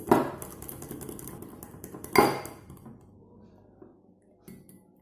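A roasted vegetable salad being tossed with soy sauce, sweet chili sauce and dried parsley, giving a couple of sharp utensil clinks and scrapes against a bowl before trailing off into near quiet with one last faint tap.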